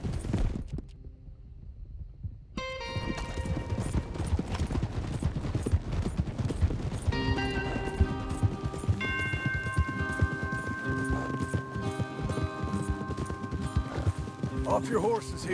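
Horses gallop with steady rhythmic hoofbeats throughout Red Dead Redemption 2, running under an orchestral score with voices talking over the ride.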